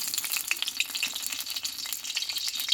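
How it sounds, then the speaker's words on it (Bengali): Two dried red chilies crackle and sizzle in hot mustard oil in a pan, a steady fine hiss dotted with sharp spitting pops, close and fairly soft. "এই গরম তেলে আরও কিছুটা সরষের তেল আমি দিয়ে দেবো। আর দেবো দুটো শুকনো লঙ্কা।"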